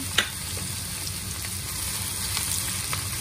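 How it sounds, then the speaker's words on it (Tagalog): Onion and garlic sauté in hot oil for a Japanese pork curry, making a loud, continuous close sizzle with faint stirring clicks and one sharp tap near the start. "Ayan, mainit na po yung mantika. So ilagay natin ang sibuyas at ang ating bawang."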